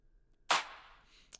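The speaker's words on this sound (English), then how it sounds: "you've got this wide clap here" A wide clap sample in a music production strikes once with a sharp, loud attack and a long reverb tail that fades slowly, followed by a short second hit right at the end.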